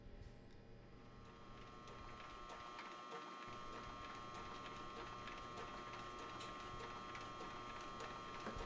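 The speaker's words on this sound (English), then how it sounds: "of leather on a walking foot sewing machine" A walking foot sewing machine with a speed reducer stitches leather with heavy thread, giving a faint, steady mechanical hum with soft repeated ticks of the needle running slowly.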